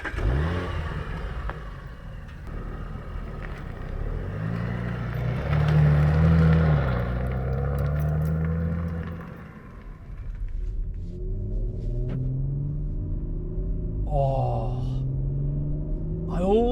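An Audi RS4 Edition 25 accelerating hard from a standstill, its engine rumbling low and building through rising revs with gear changes, loud and close from inside the cabin.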